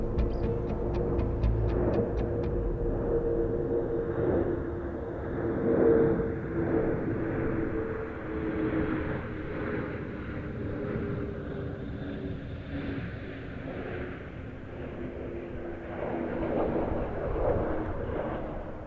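A French C-135FR military jet aircraft makes a display pass at an airshow, heard as a continuous low rumbling engine roar that swells and fades at a distance, with no voices.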